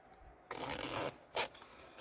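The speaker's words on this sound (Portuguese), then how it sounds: "vou colocar o zíper até o final, tirar e colocar de novo" A zipper runs along a sewn fabric children's bag, one longer rasping pull followed by a short quick zip, close and fairly loud in a quiet room.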